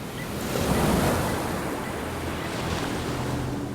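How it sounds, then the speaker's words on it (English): Big ocean waves in a storm at sea surge and roar around a sailboat, a thick churning wash that peaks early, eases, then builds again, heard alone without talk. "I just remember those waves, the sound of those waves."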